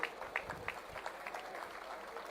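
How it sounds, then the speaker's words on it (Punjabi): A crowd at an Independence Day state-level ceremony claps for mounted police riders passing the stage, a brief, fairly faint burst of applause with a few distinct claps at the start. "ਇਹ ਜ਼ੋਰਦਾਰ ਤਾੜੀ ਮਾਰੀ ਜਾਵੇ"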